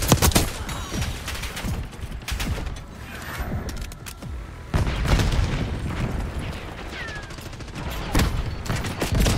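Call of Duty: Black Ops 6 multiplayer combat with bursts of rapid gunfire and sharp booms, including a flashbang, cracking in uneven clusters, loud and close, with faint mechanical clicks between.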